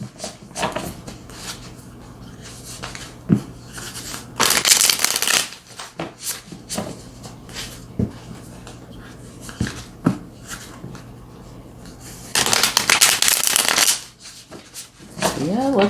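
Tarot cards are riffled and shuffled by hand in bursts, with two long loud runs of card flutter between softer handling sounds, while a voice speaks quietly in places.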